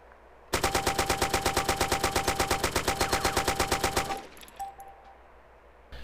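Rapid burst of AK assault rifle fire in the video game DayZ, about thirty evenly spaced shots in one sustained loud string lasting several seconds, then a short ringing tail and quiet.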